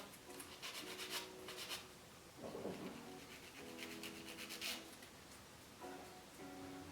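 A nail file with a 100 grit side filing press-on nails, soft close rubbing strokes repeated in a steady back-and-forth rhythm, faint and alone.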